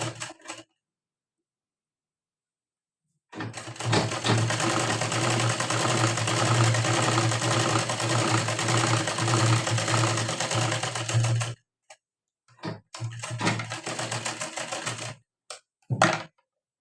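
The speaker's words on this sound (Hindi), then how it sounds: "यहाँ से सिलाई करेंगे सीधी" Electric sewing machine stitching a straight seam on blouse fabric, its steady loud whirring run lasting several seconds, then two shorter bursts after brief pauses, with no talking.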